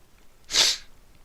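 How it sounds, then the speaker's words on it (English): A single short, breathy sniff or snort from someone with a cold, one quick burst standing alone against a quiet background. "sorry about the sniffling and snarfling"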